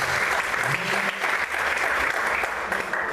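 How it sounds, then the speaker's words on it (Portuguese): A church congregation claps in joyful praise, a full, even patter of many hands sustained from start to finish at moderate volume, without speech over it. "Você pode aplaudir o Senhor com alegria?"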